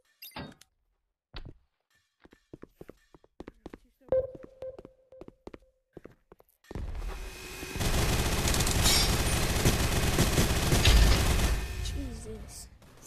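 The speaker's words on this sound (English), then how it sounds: "Pull out the minigun." In the Gun Raiders VR game, a few sparse thumps and clicks come first, then a minigun opens up in a long, dense, continuous roar of rapid fire that lasts to the end.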